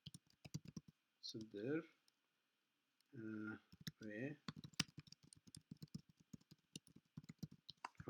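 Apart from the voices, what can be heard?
typing on a computer keyboard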